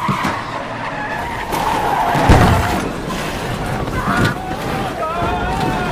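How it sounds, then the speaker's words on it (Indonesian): A sedan drags a bus, with tires skidding and squealing through a noisy, turbulent roar of vehicle and wind, under narration in Indonesian. "tiba-tiba mobil sedan menyeretnya sehingga membuat bus itu hilang keseimbangan"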